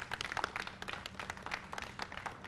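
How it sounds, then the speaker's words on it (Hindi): Audience applause welcoming BJP politician Kailash Vijayvargiya on a TV9 studio show, a busy irregular patter of many hands clapping at once, fairly faint and steady, with no talk over it. "जोरदार तालियों के साथ कैलाश जी का स्वागत कीजिए"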